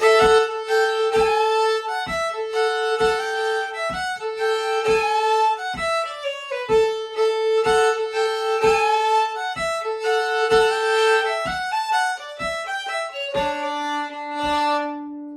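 A fiddle plays a lively tune in short, rhythmic bowed notes with a bouncy, driving pulse over a steady low beat, loud and close.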